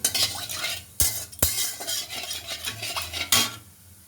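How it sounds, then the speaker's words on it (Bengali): Whole white cumin seeds sizzle in hot oil in a pan, a close crackling hiss broken by sharp metal utensil clanks against the pan and stirring scrapes. "এই যে এবার সাদা জিরে দিয়ে দিচ্ছি গোটা"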